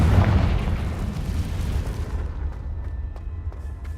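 Confringo blasting spell in Hogwarts Legacy: a loud, deep explosive boom at the start that rumbles and decays over a few seconds, followed by faint scattered debris clicks.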